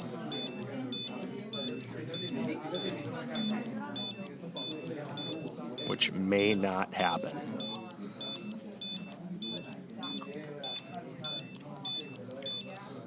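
A temperature warning alarm beeps repeatedly in a steady rhythm, sounding throughout under a person talking.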